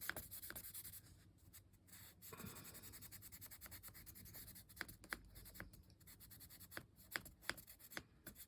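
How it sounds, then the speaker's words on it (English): A colouring pencil shades a drawing of walls on a card in a quiet, close scratchy rubbing, with repeated strokes broken by brief pauses and sharper taps. "Then I'll use a tanny colour."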